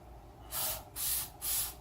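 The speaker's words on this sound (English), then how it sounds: "I can just spray some cleaner in it." Throttle body cleaner is sprayed into a Toyota Prius throttle body in three short, close hissing bursts under a low engine-bay hum.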